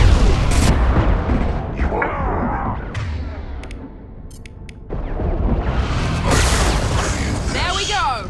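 Gunfire in Mass Effect 2 on Horizon comes as sharp shots and booming impacts amid combat noise, loud at the start and again near the end, with voices speaking over it.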